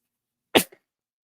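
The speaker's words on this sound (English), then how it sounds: "I sneeze and I say thank you" One sharp, close sneeze bursts out alone in a quiet room, followed by a tiny trailing breath.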